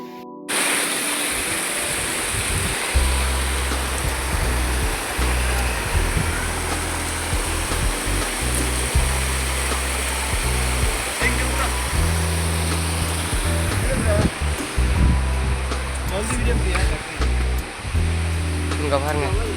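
Continuous rushing water roars in the background, with people talking and footsteps or movement over it.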